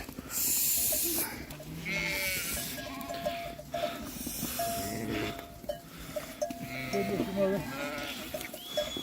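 A flock of sheep with lambs bleats in the open, several overlapping near and far cries coming one after another, while people talk over the animals.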